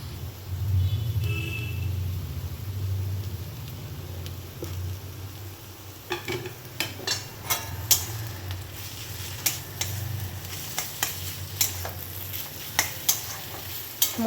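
Spatula stirring banana flower curry (mochar ghonto) with ghee and garam masala in a pan, a low steady sizzle under a run of distinct scraping clicks from about six seconds on, no talk.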